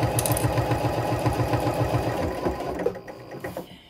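A sewing machine stitches a fabric soup bowl cozy in a fast, even mechanical chatter for about two and a half seconds, then stops, leaving a few soft handling clicks and bumps close by.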